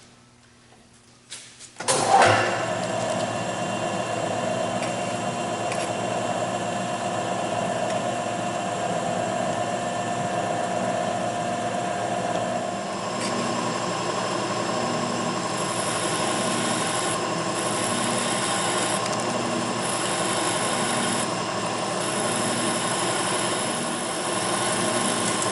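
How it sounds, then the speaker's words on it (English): A machine starts up with a sharp thump and then settles into a long, steady whirring drone while the end of a 1082 steel round bar is machined, the hum and faint cutting rasp continuing evenly at close range without speech. "we're going to machine off the end of it to expose half the holes for our cotter pin to slide in through"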